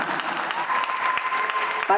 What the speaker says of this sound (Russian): Большое спасибо танцевальным дуэтам и персональные аплодисменты.